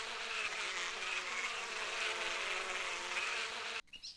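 A swarm of bees buzzes in the Wrath of the Gods video game, a dense, continuous droning hum that cuts off abruptly near the end, no voices.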